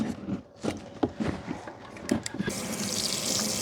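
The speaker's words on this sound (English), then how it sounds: "So now we're going to rinse them and do it again." Running water pours from a tap into a sink as laundry is rinsed by hand, with uneven splashing and sloshing, then a steadier, louder rush of flow near the end.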